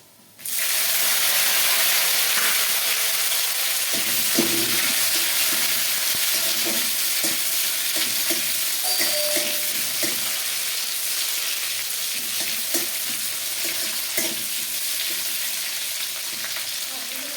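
Two medium chopped tomatoes fry in a pan with a loud, steady sizzle and hiss throughout, broken now and then by faint clicks of stirring.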